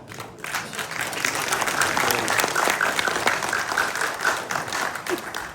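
Sustained applause from a large stadium crowd at a political budget talk in Jammu, dense clapping running loud and steady throughout with scattered cheers and voices mixed in.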